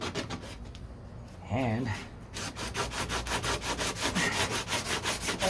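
Rapid rhythmic back-and-forth rasping of a sanding block over Bondo body filler on a 1969 Corvette C3 passenger door, loud and close, with a brief spoken word and a pause before the steady strokes resume.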